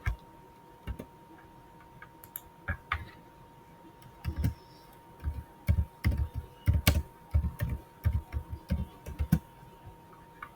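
Typing on a computer keyboard while filling in a form on a school portal, with irregular bursts of close, crisp key clicks and short pauses between them, and no talk alongside.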